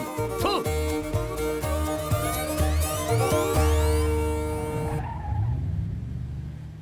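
New car driven fast: a revving engine with squealing, skidding tires and sweeping pitch shifts, loud and close, cutting out into a fading rumble near the end.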